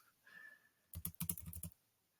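Short burst of typing on a computer keyboard, a quick cluster of close, crisp key clicks lasting under a second after a faint tone.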